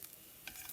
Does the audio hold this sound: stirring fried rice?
yes